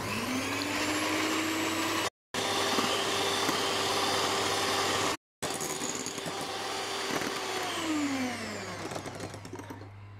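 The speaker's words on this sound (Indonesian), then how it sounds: "Kemudian kita pukul dia sampai dia mengembang." An electric mixer whips sugar with egg whites for butter peanut cream cheese cupcakes, a loud steady motor whine that cuts out twice briefly, then slows and winds down near the end.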